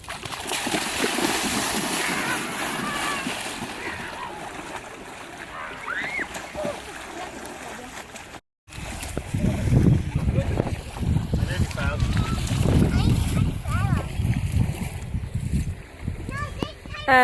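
Several people, children among them, plunge and splash into lake water on a family summer outing, with choppy continuous splashing and excited voices shouting throughout, briefly cut off by a short gap midway.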